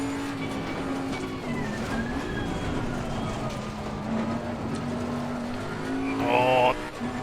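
A race car in Assetto Corsa Competizione laps Bathurst, its engine droning steadily and rising in pitch, with a short whining burst near the end; someone talks over it throughout.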